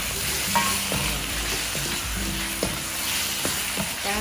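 Chicken for an Indian curry sizzles steadily in a hot pan, with repeated scraping and stirring knocks from a utensil, close and continuous without talk.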